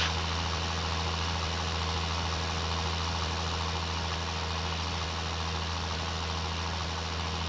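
A video game tractor engine idles steadily at low revs, a constant deep hum with a faint mechanical rattle that holds unchanged throughout.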